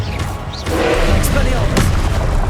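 Booming Confringo blasting-spell explosions in Hogwarts Legacy, a loud thud followed by crackling bursts, heard close and repeated under a voice shouting spell names.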